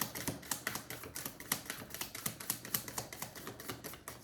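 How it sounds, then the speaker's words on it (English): A tarot card deck being shuffled up close: quick, crisp riffling clicks in a brisk, uneven rhythm, quiet and alone with no talking. "I love this deck so much. It shuffles so nicely."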